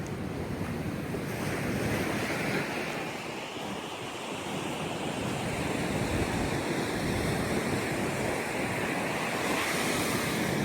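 Rough surf crashes and rolls continuously onto Navarre Beach, loud and close, with heavy wind buffeting throughout.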